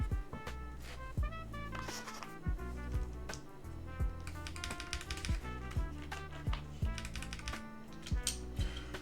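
Typing on a Macross65 mechanical keyboard with GMK keycaps: a quick, steady run of crisp, close keystrokes, with heavier thocks now and then, clattering along without any talk.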